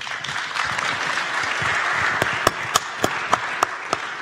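Audience applause at a round-table event of entrepreneurs at a chamber of commerce in Troyes, a steady dense wash of clapping with a few sharper, louder individual claps standing out near the end.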